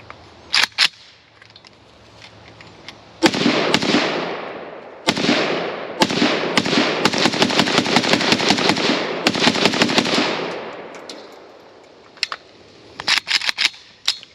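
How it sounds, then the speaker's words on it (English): A Russian Molot RPK semi-automatic rifle fed from a Bakelite magazine, fired in long strings of loud, sharp shots at an outdoor range, with a few isolated reports before and after the main volleys. "Fox is going to try that potentially janky mag Bakelite in the RPK."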